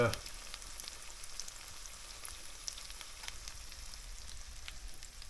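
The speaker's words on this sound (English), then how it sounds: "after a couple of minutes of frying, once it gets good, nice and crispy on both sides here" Chicken for chicken parmesan frying in a pan, a steady, quiet crackle and sizzle of hot oil with scattered pops throughout.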